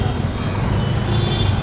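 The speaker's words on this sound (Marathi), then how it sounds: "आपण रोडवर आहे कारण गाड्यांचा आवाज आहे" Steady roadway traffic rumbles by on a busy road, a dense low wash of passing vehicles with a faint horn, while people talk over it nearby.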